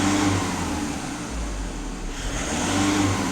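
A VW Passat B7 engine with DPF and EGR systems runs close by, and pressing the pedal lifts it into a brief, deeper rev that eases back to a steady hum. No one speaks.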